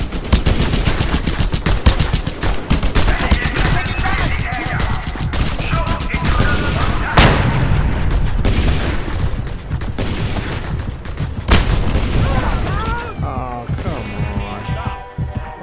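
Loud automatic gunfire in Just Cause 2 rattles almost without a break, with dense rapid bursts, a heavy boom partway through and occasional voices under the shooting.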